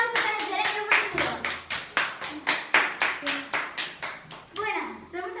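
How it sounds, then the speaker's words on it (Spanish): Children in a school circus show audience clap in rhythmic unison, sharp repeated beats, loud and close, with young voices calling out alongside and a brief livelier burst at the end. "Un aplauso para el Cereño Mágico."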